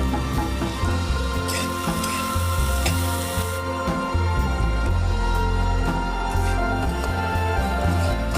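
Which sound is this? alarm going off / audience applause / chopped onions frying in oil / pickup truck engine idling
chopped onions frying in oil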